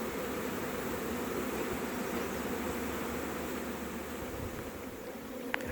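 Honey bees hum around a hive in a dense, steady buzz, with no speech.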